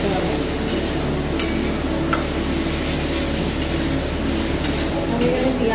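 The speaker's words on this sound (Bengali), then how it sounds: "আদাটার গন্ধটা যতক্ষণ না যাবে ততক্ষণ ভালোভাবে তেলে নাড়াচাড়া করতে হবে।" Grated ginger frying in oil for a golden chicken dish gives a steady, dense sizzle, with occasional spoon scrapes and clinks as it is stirred, close and continuous.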